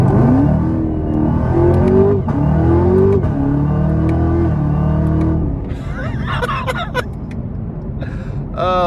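A 2021 Chevy Camaro ZL1 accelerating hard, loud rising engine roar through several gear shifts heard from inside the cabin, with a gasp and brief exclamations near the end.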